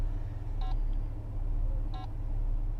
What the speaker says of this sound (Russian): А нам еще сзади сигналят.